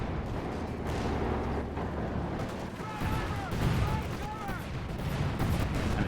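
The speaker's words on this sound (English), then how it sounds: "Got Artillery Strike called in here against Acehiro. There's, well, cluster bombs again." A called-in artillery strike with cluster bombs in the World War II strategy game Company of Heroes 2, heard as a continuous rumble of distant blasts and scattered impacts under battle noise, with faint whistling tones drifting over it.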